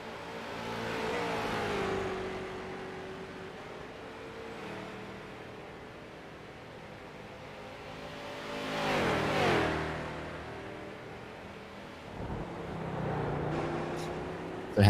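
Race cars drifting through a corner at Road America in the iRacing sim, tires nearly worn out, with engines rising and falling in pitch as they approach and pass, a louder swell midway, continuous and fairly close.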